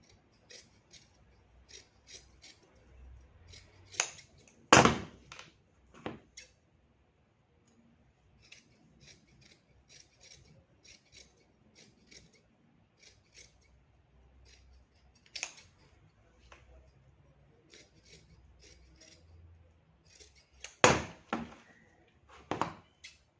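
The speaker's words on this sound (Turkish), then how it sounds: "kemerini kesiyorum. Bir santim dibinden." Scissors cutting the waistband off knit trousers about a centimetre from the seam, heard as sparse, close, crisp snips and clicks spread through the clip, with a few louder cuts standing out.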